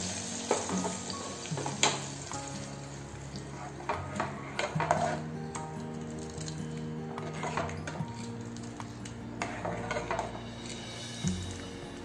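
Fried cashews are stirred into chana dal kheer in a pan, giving soft sizzling under repeated scraping and clinking of a spoon against the metal pan, close and quiet, with no talk.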